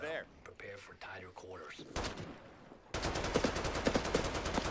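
Gunfire in the battle royale game Off the Grid: after a player talks, rapid bursts of shots ring out, then a dense, steady volley of repeated cracks fills the rest, loud and close.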